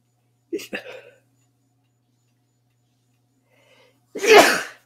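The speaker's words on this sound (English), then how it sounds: "I'm going to sneeze." A person makes a sharp breathy sound, then after a pause lets out a single loud, close sneeze.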